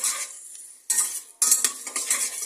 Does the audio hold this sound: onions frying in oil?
yes